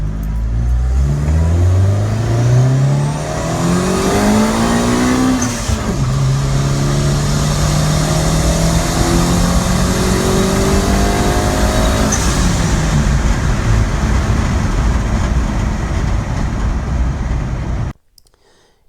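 A Honda car with a cheap eBay turbo kit, running 6 PSI of boost, accelerates hard. A loud rising engine note climbs through the revs, drops at a gear change, then climbs again. The sound is continuous and close, then cuts off abruptly.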